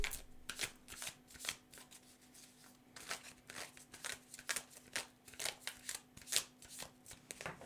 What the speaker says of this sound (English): what I want to do now is take some additional cards for this Magician energy.